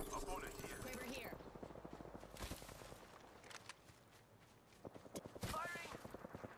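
Gunfire in the Apex Legends video game rattles in quick bursts of sharp shots, fairly faint, with a few louder cracks scattered across the stretch.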